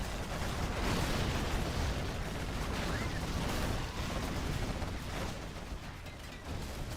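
Particle cannon and Scud Storm superweapon strikes in the strategy game C&C Generals Zero Hour, a dense, continuous roar of explosions and rumbling blasts filling the whole stretch at a steady, distant-sounding level.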